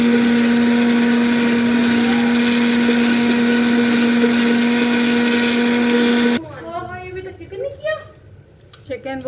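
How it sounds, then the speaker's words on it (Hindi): A blender grinds a sauce mixture with two spoons of white oil, a loud steady whirring drone for about six seconds that cuts off abruptly, followed by a few quieter kitchen noises. "और इनको अब अच्छी तरह से कर लेना है जी ग्राइंड"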